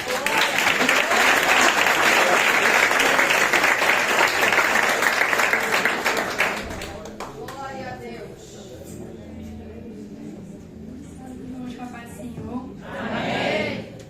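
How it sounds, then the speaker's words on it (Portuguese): Church congregation applauding a singer as she is welcomed to perform, loud sustained clapping for about seven seconds that then gives way to someone speaking, with a brief swell of applause near the end. "Pode recebê-la com aplauso."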